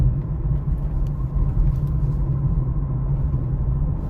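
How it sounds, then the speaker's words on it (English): A 2023 Honda CR-V EX-L driving over a very bumpy road, heard from inside as a steady low rumble of tires and road noise, with no talking. "this is a very, very, very bumpy road"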